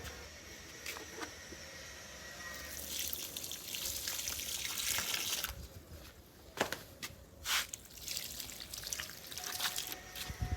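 Water trickles and splashes steadily for several seconds, like pouring onto soil, with a few dripping bursts and handling noises near the end.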